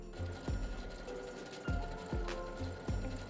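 A sewing machine stitches an overcast stitch, producing a rhythmic series of low mechanical thumps over a steady motor hum at close range.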